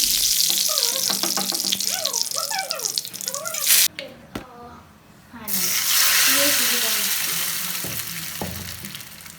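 Garlic frying in a pan for an upu curry, a steady close sizzle that drops out briefly midway and then returns loud, with speech over the first part.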